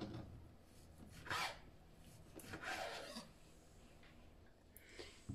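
A knife cuts beef hip steak into thin strips on a board. A few soft, quiet rasping strokes stand out against a near-silent background.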